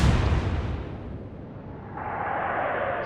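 Naval gun salvo in the Atlantic Fleet video game: a single heavy boom at the start rolling off into a long rumbling decay, followed by a steady hiss rising near the end.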